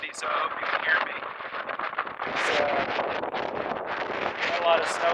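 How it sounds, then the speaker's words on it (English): Strong wind gusts buffet the microphone over a thawing no-till field, with snowmelt underway after a blizzard. A constant broadband roar swells and dips, loudest near the middle and end, while a person talks throughout. "it's really windy, so I hope you can hear me."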